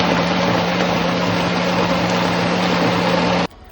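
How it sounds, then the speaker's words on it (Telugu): A kitchen mixer grinder blending a paste of cumin, turmeric and a little oil, running as a loud steady whir that cuts off abruptly near the end. "పేస్ట్ ఇలా మెత్తగా అయ్యే వరకు మిక్సీ పట్టుకోవాలి."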